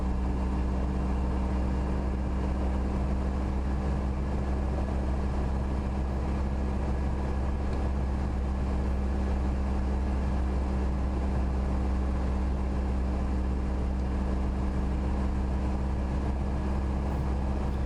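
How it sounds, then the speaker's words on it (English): A training helicopter's rotor system engaging on start-up, a steady low engine drone with a constant hum and even whine, no talk. "So it's just waiting for the rotor system to fully engage, clutch light out"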